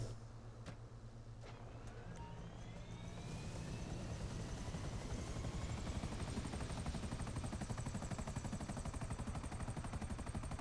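Buzzard attack helicopter in GTA V, its rotor chop building from a low rumble into a steady, loud pulsing beat that holds for several seconds with no talking.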